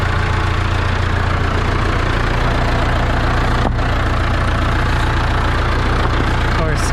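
An International Harvester Hydro 84 tractor with its loader raised, the diesel engine idling at a steady low rumble throughout, close by, with a faint clank partway through.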